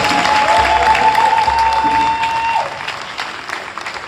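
A church congregation applauds and cheers together, a loud dense wash of clapping with a steady tone running underneath that fades out after about two and a half seconds.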